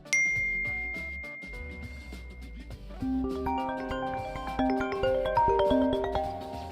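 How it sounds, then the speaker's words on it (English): An iPhone's default call and text notification tones play: a single bright chime rings out first, followed by a quick cascade of melodic ding notes that builds in the second half, clear and close. "When you make a phone call or receive a text, the phone plays two default tones for each"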